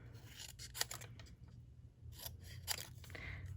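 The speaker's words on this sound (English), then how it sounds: "I'm going to just start by trimming this" Scissors snip through a paper sentiment trimmed for a Stampin' Up! Halloween card, with two or three quick cuts over a low hum and faint handling rustle.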